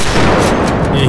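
A loud, booming gunshot from a long-range rifle in GTA V, fired at a target on a rural farm, bursts close and harsh, then rings out briefly.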